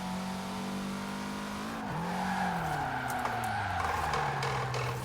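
A custom Hondura car drifts in a driving video game, its engine droning steadily while the tires squeal and skid. The engine pitch dips sharply midway, then climbs back as the slide continues, with no talk over it.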